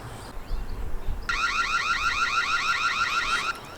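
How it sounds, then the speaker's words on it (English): A Reolink Argus PT Ultra wireless security camera's custom siren: a rapid warbling electronic tone for about two seconds, loud and steady, after a short stretch of low background noise. "Custom siren sound"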